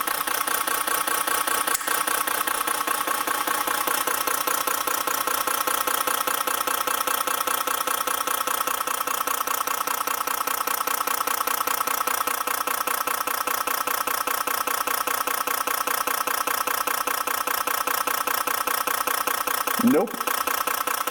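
A Caterpillar 8M3 diesel engine on an ECM lab setup with an injector fault idles at 600 RPM. It gives a steady, dense, rhythmic chug with light knocking throughout and a sharp clack near the end.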